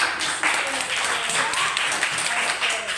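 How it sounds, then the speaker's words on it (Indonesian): A classroom of students claps together during an Indonesian lesson on main ideas in paragraphs, a dense, steady burst of applause lasting a few seconds with a few voices mixed in. "tepuk tangan dulu"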